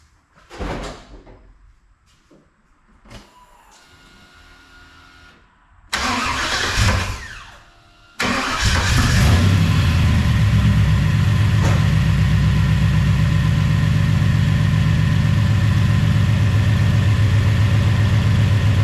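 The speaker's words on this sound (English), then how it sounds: "I'm gonna start the truck." A truck with leaking head studs cranks and fires up, then settles into a loud, steady idle that runs on alone after a few clunks and thumps beforehand.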